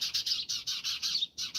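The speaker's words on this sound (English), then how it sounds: "I don't know if you hear the birds right now, but they are going wild. There is a bird nest nearby." Birds chirping near a nest outdoors in summer, a rapid run of high, bright tweets repeating in quick bursts with a brief pause, close and clear with no voices.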